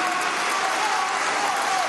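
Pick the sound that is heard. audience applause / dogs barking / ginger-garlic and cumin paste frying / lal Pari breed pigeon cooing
audience applause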